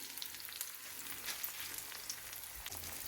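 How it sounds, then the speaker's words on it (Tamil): Three eggs poured into a pan over sautéed onions, frying with a steady, close, even sizzle and faint crackles throughout, with no talking. "இந்த டைமில் நான் உடைச்சி வச்சுருக்கிற இந்த மூன்று முட்டையையும் இதுக்குள்ளே விடுறேன்"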